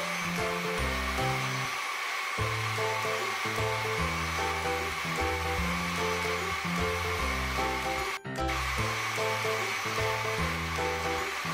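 Mambo kitchen robot blending gazpacho at speed 4 gives a steady, loud motor whir with a low churning hum and a broad rushing noise, continuous for the whole stretch with one brief dip.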